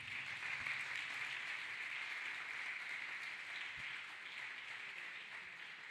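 Steady applause from a church congregation clapping hands together, a continuous dense patter that holds at an even level for several seconds with no voices over it.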